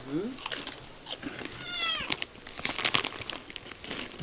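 Cats eating, with close crunchy biting, chewing and crinkling noises scattered through the clip, several short meows, and a person speaking Spanish briefly in the background.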